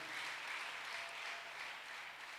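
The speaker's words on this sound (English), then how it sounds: "Give it a hand clap." A crowd claps continuously, a dense, even wash of hand clapping that holds at a steady level throughout.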